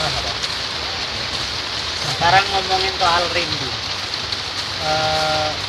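Rain falls steadily, a constant broad hiss of drops on surfaces, while people talk over it in short bursts.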